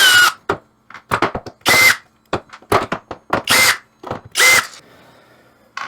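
A power drill spins screws out of an arcade Pac-Man control deck near the joystick, in repeated short whirring bursts separated by brief silences, close and loud.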